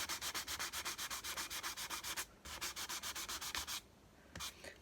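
Sandpaper rubbed back and forth over guitar frets makes close, rhythmic scratchy strokes with no talking, broken by a short pause partway through and a few sparse rubs at the end.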